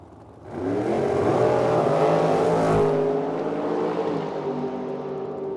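Drag racing car launching down the track at Medicine Hat, Alberta: a sudden loud engine roar that holds and shifts in pitch, then recedes slightly as the car pulls away.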